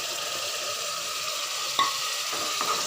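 Ginger paste and tomato sauté in a pressure cooker for chicken biryani, giving a steady close sizzle. A sharp spoon clink lands midway, and a fainter clink follows near the end.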